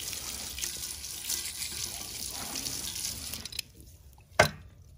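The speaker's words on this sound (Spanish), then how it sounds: "Vamos a lavar la olla y les voy a enseñar cómo se le quita bien fácil todo el piso" Tap water runs steadily into a sink while a cooking pot is scrubbed and rinsed, a close, continuous wash that thins out near the end before a single sharp clunk.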